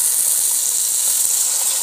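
Tomato and ground masala fry in a pan for a Tulu-style veg fish masala, a steady bright sizzle and steam hiss that stays even and close throughout.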